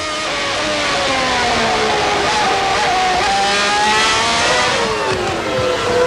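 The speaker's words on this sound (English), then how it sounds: "Let's just listen to the Ferrari for a second." Ferrari Formula 1 car from the 1995 Japanese Grand Prix on a wet, slick track: a loud, high-pitched engine wail with throttle feathering, pitch rising and falling steadily, heard alone without commentary.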